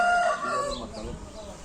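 Roosters kept outdoors in sunny weather crow once, the call loud and close for about a second before fading into a low general background.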